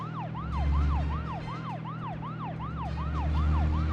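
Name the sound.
police car siren in video game Deadly Premonition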